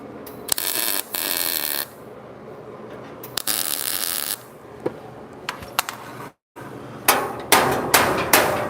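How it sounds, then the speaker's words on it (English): Hammer blows on curved sheet metal of a 1968 custom VW, pushing the panel outward: sharp metallic strikes, some single and some in quick bursts, loud and close with short pauses between. "So I'm going to hit it where it matches, and I'm going to push the sheet metal out."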